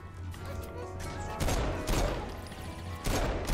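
Gunfire in the Saints Row IV video game: loud bursts at about 1.4, 1.9 and 3.1 seconds over a steady game background hum, with no voice over the shots.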